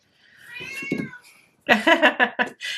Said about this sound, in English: If you hear my kitty, she's not being tortured.